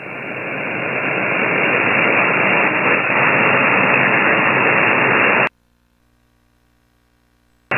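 Loud, steady hiss of static on an 80m HF ham radio band received through an SDRplay RSP2 receiver, filling the first five seconds and then cutting off abruptly into near silence, with a brief click at the end.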